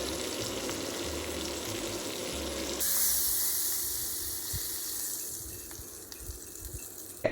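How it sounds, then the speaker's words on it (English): Beef searing in hot oil with butter and thyme, a steady broad hiss and sputter that swells louder partway through and then settles into a softer continuous sizzle. "I'm adding some thyme and butter to give it a bit of flavor as it sears."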